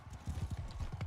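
Horse hooves clip-clopping in Mount & Blade Bannerlord, a quick, even run of about eight close, moderately loud thuds, with no talk over them.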